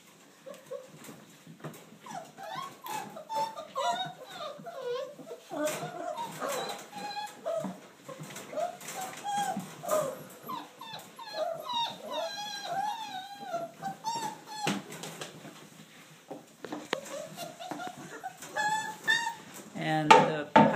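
Young puppies from a litter whimper and yip in high, wavering cries, several voices overlapping close by with brief pauses, and a person's voice briefly in the background.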